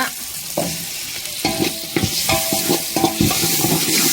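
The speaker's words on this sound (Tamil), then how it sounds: "தக்காளி நல்லா வதங்க" Tomato and fish curry ingredients sautéing in a pan, a continuous sizzle broken by several sharp spatula scrapes and stirs, close and fairly loud with no voices.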